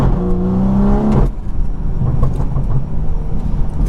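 A BMW 340i's B58 engine hums, muffled from inside the cabin with windows fully up, a steady droning tone that gives way to a softer rumbling road noise with faint knocks.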